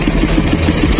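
Raider 217cc motorcycle engine with its catalytic converter removed, idling steadily with a throbbing low rumble and close, loud mechanical vibration, no talk over it.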